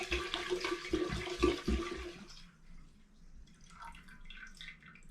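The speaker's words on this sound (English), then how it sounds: "I'm going to tip what's left in this demijohn, which is the spirit and the water." Homemade potato spirit and water being tipped from a demijohn into a still, a close, gurgling splash and glug of pouring liquid for about two seconds that then fades to quieter trickles and drips.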